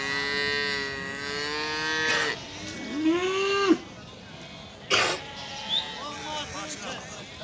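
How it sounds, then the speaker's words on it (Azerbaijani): Bull calves mooing at a livestock market in Fuzuli, Azerbaijan, with a long low moo followed by a rising, wavering call, then short bursts of noise, heard close and over faint background chatter. "Əziz izləyicilər, bax, belə bir erkək danalar var."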